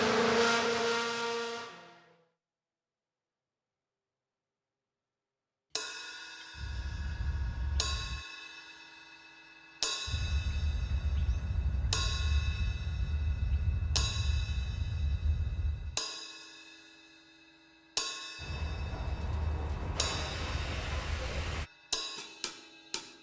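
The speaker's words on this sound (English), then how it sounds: "the Williams driver Bruno Senna has taken us inside the cockpit of a car for a race start" Onboard sound of a 2012 Williams Formula 1 car at a race start: a high engine tone fades to silence, then rapid revving bursts and a series of gear-shift steps as the car accelerates, ending with sharp clipped blips.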